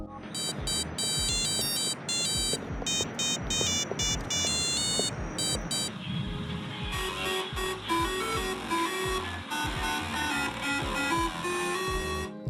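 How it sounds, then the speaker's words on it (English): Niko's phone in GTA 4 plays a ringtone of the GTA 1 theme, a loud, busy electronic tune of chirpy repeating beeps over a rhythmic beat, changing melody partway through and playing on without any talking. "there's a ringtone on the phone that's the same as the GTA 1 theme tune"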